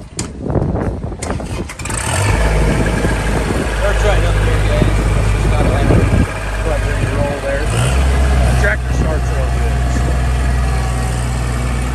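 A 2011 Kubota L3200 compact tractor cranks briefly, its engine catches, and it then runs at a loud, close, steady idle, with a small change in engine pitch later on.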